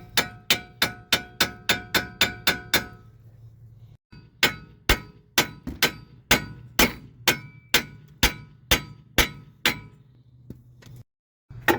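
Metal-on-metal tapping on a Mazda 3 transmission part being seated during clutch and flywheel work: a steady series of sharp ringing hammer taps, close and clear, with a brief pause partway through, no speech.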